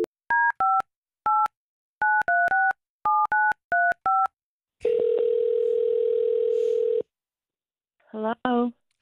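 A phone line plays a sequence of short, crisp touch-tone beeps as a number is keyed, then a steady dial-style tone holds for about two seconds before a burst of fainter tones at the end.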